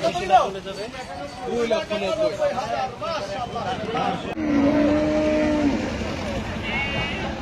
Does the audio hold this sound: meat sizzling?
no